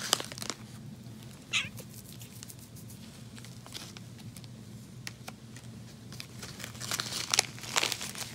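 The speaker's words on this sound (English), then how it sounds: "It's in a Ziploc bag because the cats got a hold of it and chewed holes in the bag." Plastic Ziploc bag crinkling as it is handled near cats, scattered dry crackles and rustles over a steady low hum, with a few louder bursts toward the end; no one speaks.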